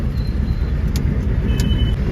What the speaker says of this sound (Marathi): जबरदस्त ट्रॅफिक जाम झाली सर्कल वरती खतरनाक ट्रॅफिक झालेली